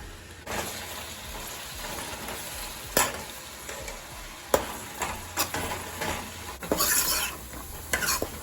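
Long-sliced onions frying in oil for tikka boti biryani, a constant close sizzle broken by scraping stirs and a few sharp knocks of a spoon against the pan.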